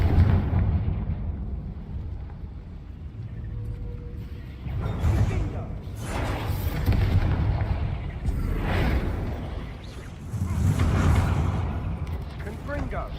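Confringo explosion spells in Hogwarts Legacy, several deep booming blasts rising and fading in waves over a low rumble.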